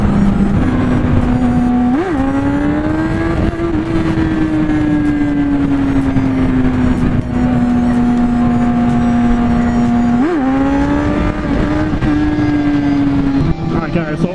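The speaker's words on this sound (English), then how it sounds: "Trying to beat all the rush hour traffic," Road traffic at rush hour: a loud, close engine drone that holds a steady pitch for the whole stretch, rising briefly now and then, with a continuous roar underneath.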